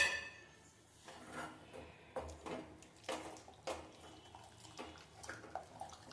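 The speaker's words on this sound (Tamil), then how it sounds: "சேர்த்திட்டு இது கூட வேக வச்ச அந்த ஃபில்டர் பண்ண தண்ணியையும் சேர்த்துக்கலாம்." Strained water from cooked toor dal is poured into a pot of spinach, heard as intermittent splashes and clinks of utensils against the vessel, irregular and close, with quiet gaps between.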